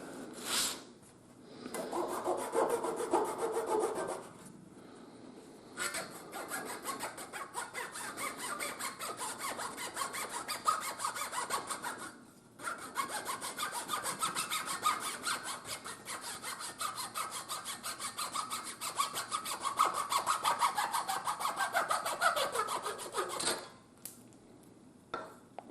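A hand saw cuts a small wooden valve pin for a wooden steam engine, close and fairly soft, with a quick rasping back-and-forth stroke rhythm that runs in steady spells broken by a few short pauses.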